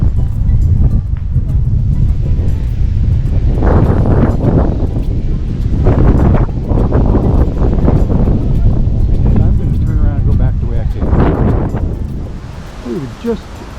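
Strong wind buffets the microphone at a beach on Coco Cay in the Bahamas, a loud continuous roar with surging gusts and surf mixed in.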